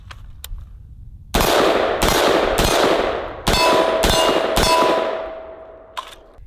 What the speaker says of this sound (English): I could shoot this thing all day. Let's go ahead and finish off this magazine here.